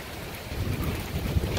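Heavy rain and rumbling wind from a severe storm roar steadily outdoors, a dense low wash with gusty swells and no clear voices.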